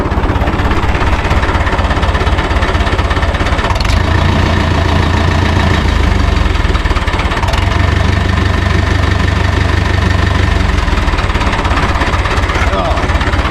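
A David Brown 990 tractor engine idles steadily with a low, throbbing chug, joined by a deeper rumble partway through, loud and close throughout.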